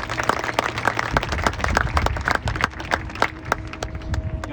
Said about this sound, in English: Can you please give them a round of applause for their support to you?